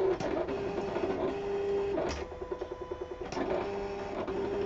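A Silhouette Cameo cutting machine runs steadily, its motor whirring in a continuous hum with brief rhythmic pulses as the carriage moves, heard close and without talk.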